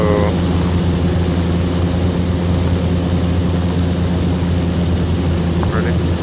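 Steady, loud propeller airplane engine drone in the X-Plane VR flight simulator, a constant low hum with harmonic layers running throughout without pause, with a voice speaking over it.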